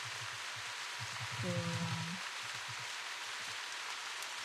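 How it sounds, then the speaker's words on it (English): Steady rain sound effect from the video game The Path, a dense, even hiss of rainfall that continues throughout while a person speaks briefly over it. "the fucking rain sound effect continues to play"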